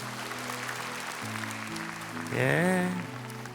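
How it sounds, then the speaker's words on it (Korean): During a Sunday church service, the congregation gives a steady round of clapping under a sustained organ or keyboard tone, with a voice speaking over it near the end. "박수하겠습니다"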